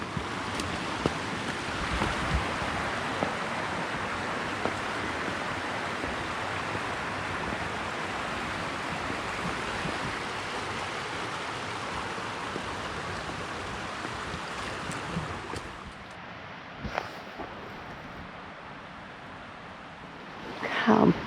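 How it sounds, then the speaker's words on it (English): A river flows on a fall side-by-side ride toward hidden waterfalls, making a steady broadband rush mixed with wind. It stays continuous, then thins out near the end. "The river's going good."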